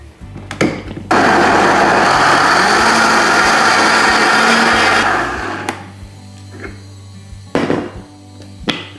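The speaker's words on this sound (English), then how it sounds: "Just gonna blend this up until it's nice, silky, and smooth" A blender purées vegan soup of sautéed vegetables and veggie stock, roaring loudly and close for about four seconds before winding down, bracketed by a few sharp clunks and knocks.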